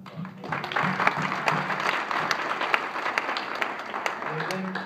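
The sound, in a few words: applause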